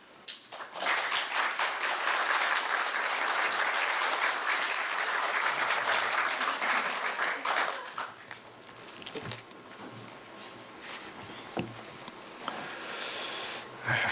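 Church congregation at a Korean service claps warmly to welcome a visiting pastor, a dense, loud burst of applause for about eight seconds that then thins into scattered claps over a quieter room.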